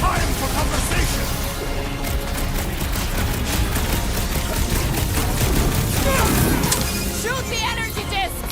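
Dense, continuous gunfire in the action game Marvel's Guardians of the Galaxy, with rapid blaster shots and crashes layered over loud battle music and effects, close and unbroken throughout.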